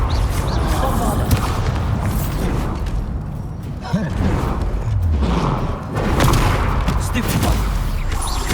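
Spell blasts and explosive booms from a Hogwarts Legacy battle, with dense, crashing impacts, creaks and rumbling debris filling the whole stretch, loud and close, mixed with game voices.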